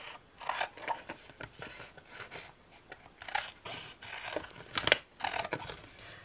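Scissors cut out an iron-on vinyl design made on a Cricut Joy: close, soft snips and crinkly rustles of the sheet in irregular short bursts, with quiet pauses between cuts and no talking.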